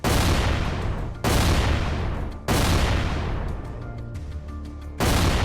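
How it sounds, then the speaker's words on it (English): A Ukrainian tank crew fires at a second tank in a battle, with loud, close heavy booms recurring roughly every one to two seconds, each followed by a rumbling decay. "the Ukrainian crew fires at the second tank"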